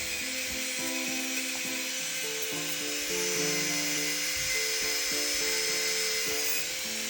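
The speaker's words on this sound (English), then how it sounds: "use a larger bit to smooth and clean up the dry skin around the cuticle" An electric nail drill fitted with a larger sanding bit smooths dry skin around the cuticles during a pedicure, giving a steady, high-pitched whirring with shifting tones as the bit moves, fairly faint and close with no talking.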